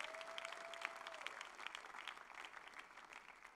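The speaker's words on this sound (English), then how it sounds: "Clap your hands for Jesus." Congregation applauding in a church, a faint but dense burst of many hands clapping together, continuous for a few seconds and heard from a distance.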